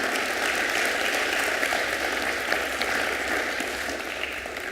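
An audience at an energy reform forum applauds a panelist, a steady, even roar of many hands clapping that holds for several seconds and fades only slightly, with no voices over it.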